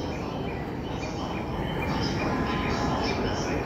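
A JR E257 series limited express Odoriko train bound for Tokyo rolls into a station with a steady, heavy rumble and rushing noise that swells slightly as it comes in.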